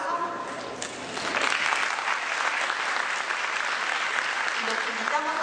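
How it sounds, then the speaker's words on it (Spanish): A conference audience gives a strong round of applause to welcome two speakers at a mathematics lecture, with dense, even clapping that swells after the first second and holds steady. "Recibamos a ambos por un fuerte aplauso."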